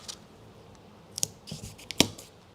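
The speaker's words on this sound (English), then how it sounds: "So we're just gonna put down some tape" Masking tape is pulled and pressed onto a campervan side panel before cutting openings for a Truma Combi D6 diesel heater, giving a few sharp, quiet crackles and snaps over a low background.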